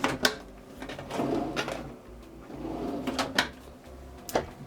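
Cabinet drawers in a caravan ensuite slide open and shut several times, with wooden knocks and rolling slides spread across the moment, close and moderately loud with no talking.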